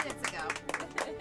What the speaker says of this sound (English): We're all cheering